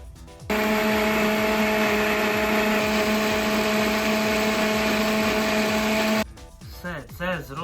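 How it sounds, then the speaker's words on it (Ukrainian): A blender roars loudly and steadily for several seconds blending beets and garlic, its motor whine constant, then cuts off as a voice begins speaking. "наші бурячки і чесник запихаємо в блендер"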